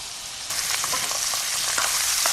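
Butter sizzling in a frying pan ready for trout, a steady bright crackle that jumps louder after a brief quieter start and carries on close and alone.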